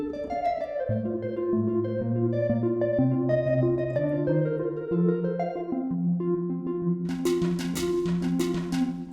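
Del Norte synthesizer playing a unison multi-mode patch with its sampled attack removed: sustained layered tones moving through chord changes, then brighter plucked notes entering near the end, continuous and fairly loud with no talk.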